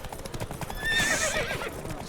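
In The Witcher 3, hooves clip-clop at a steady gallop during a horse race as a horse neighs loudly partway through, with a rushing background.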